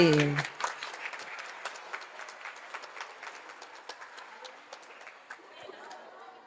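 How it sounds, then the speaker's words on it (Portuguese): A crowd claps for the nursery class at a school Bible fair, a steady, moderately distant applause that carries on evenly and slowly fades. "Palmas para o maternal, gente!"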